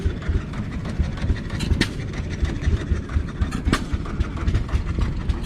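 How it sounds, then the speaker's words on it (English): A Farmall MD diesel tractor engine runs steadily at a vintage thresheree and car show, a rough, pulsing mid-range chug that stays loud and close throughout. "Here we have a Farmall MD. This is a diesel."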